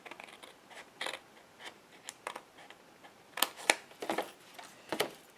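Scissors cut diagonally through card for an easel box card, a series of crisp close snips and clicks at uneven intervals, quiet and with no voice over them.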